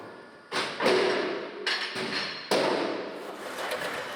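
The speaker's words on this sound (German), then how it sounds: "Das Holz wird eingefördert." Timber is fed into a woodworking joinery machine in a carport-building workshop, giving loud broadband rushing bursts and heavy thuds that start, cut off and restart several times, close by with no talking.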